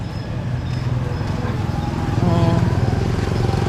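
A freshly washed and waxed new motorcycle with new tires idles nearby, its engine putting out a steady, low, pulsing chug that swells slightly louder toward the end.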